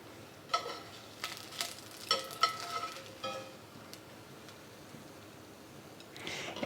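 Chopsticks stirring a pot of soup, a series of light clicks and taps against the pot over a soft simmering background, fairly close, no talk.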